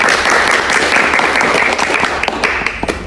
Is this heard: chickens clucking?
no